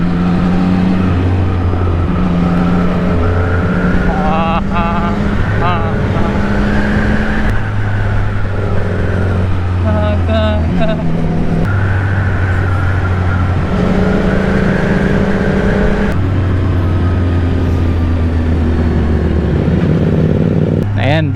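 CFMoto 675NK motorcycle ridden on twisty roads in Bataan, its engine rising and falling through repeated gear changes and throttle bursts, loud and close, with a rider talking intermittently over it and wind rush throughout.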